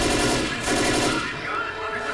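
Sustained automatic gunfire in the zombie shooter Left 4 Dead, a steady rattling stream of shots close by, with a player's voice talking over it.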